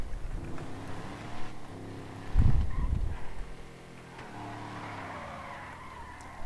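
A car skids with squealing tires in the video game GTA roleplay, a loud screech surging in the middle over a running engine, then fading to a lower rumble.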